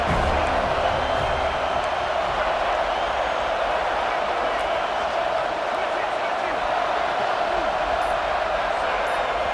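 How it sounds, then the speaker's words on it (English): Roaring stadium crowd at a college football game, NC State at Florida State, during a third down in the red zone late in the first half: a dense, sustained wall of noise that stays loud and unbroken throughout. "A cacophony of noise, debilitating surround sound"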